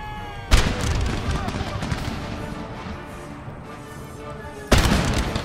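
Artillery guns fire in an Empire: Total War battle, with two loud, sharp booms about four seconds apart over continuous battle noise and a crackle of musketry.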